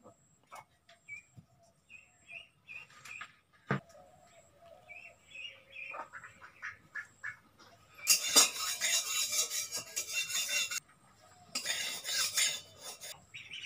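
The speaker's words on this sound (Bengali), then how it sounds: "এইবার আমি শুকনো লঙ্কা আর পাঁচফোড়নটাকে ভেজে নেব" Dried chilies and panch phoron dry-roasting in an oilless wok on a village stove: scattered light rattles and metal scrapes of stirring, with faint bird chirps and distant background sounds, no talk.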